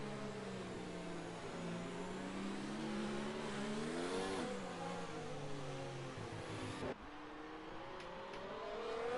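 Race car engines in a racing video game, set on a Russian circuit during an official stream, rev and drone loudly and steadily with rising and falling pitch as the cars accelerate, shift and pass, with no talk.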